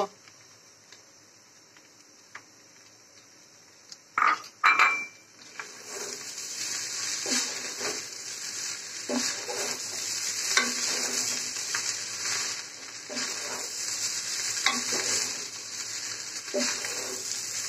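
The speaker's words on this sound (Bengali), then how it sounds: "এখন দিয়ে দিচ্ছি ভেজে রাখা ডিম, দিয়ে আবারও সুন্দরভাবে মিক্সড করব" Fried egg stirred into street-style fried rice over a high flame, a few sharp utensil clanks giving way to a continuous loud sizzle with rhythmic spatula scrapes, close by.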